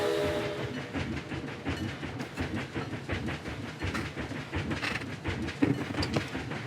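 A small zoo train ride in a video game rolls along its track with steady clickety-clack rhythm and rumbling carriages, moderately loud and continuous, no talking.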